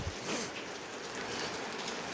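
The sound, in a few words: heavy rain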